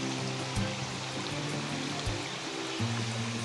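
A river swollen by heavy rain and flooding rushes steadily in a continuous broadband wash, fairly close with no talking.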